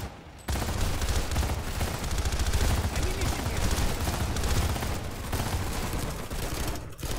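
A squad opens up with sustained automatic gunfire in Planetside 2, a dense, loud barrage of overlapping shots that runs for most of the stretch after a brief quiet start.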